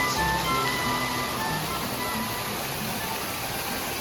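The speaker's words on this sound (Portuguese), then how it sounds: "Tem até uma cachoeira" An artificial waterfall in a store display gives a steady, soft rush of falling water, even and continuous with a faint indoor murmur underneath.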